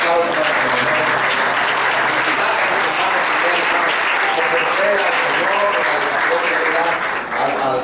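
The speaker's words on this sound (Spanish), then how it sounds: "Vamos a dar un fuerte aplauso" A church congregation breaks into strong, sustained applause, a dense even wash of clapping that fills the room for several seconds before easing slightly at the end.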